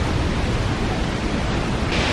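The waterfall at Minneopa State Park roars in a dense, unbroken rush of falling water, loud and close, with no voices.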